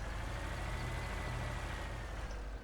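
A tractor in the farming game Farming Simulator 15 runs at a low steady rumble, a constant engine drone close by and on its own, with no talk.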